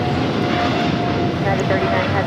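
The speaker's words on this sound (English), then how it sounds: "This is DHL operated by Polar Air Cargo 962 taking off to Cincinnati on a 777 freighter." Boeing 777 freighter run by Polar Air Cargo for DHL taking off at Los Angeles airport, a steady broad jet roar holding throughout with a radio voice talking over it.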